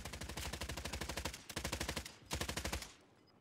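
Automatic gunfire in Call of Duty Warzone, three sustained bursts of rapid, evenly spaced shots, close and sharp, with brief pauses between bursts and the last one trailing off.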